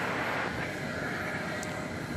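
Aircraft at DFW Airport at night, a steady, distant broadband engine roar holding level throughout with no talk.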